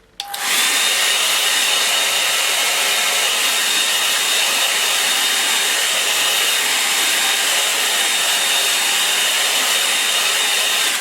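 A hair dryer blows steadily on a watercolor landscape painting, a loud continuous whooshing roar that starts abruptly and holds for the full length with no voices.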